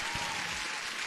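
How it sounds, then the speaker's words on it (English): A burst of crowd applause during a live futures-trading stream, thick and continuous for about a second with no voices on top. "Let's hear an applause for Jeff, sorry."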